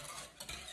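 Liquid cream in a saucepan is stirred for vanilla ice cream base, a short, faint swish with a light utensil scrape near the pot, quiet and brief, with no voices.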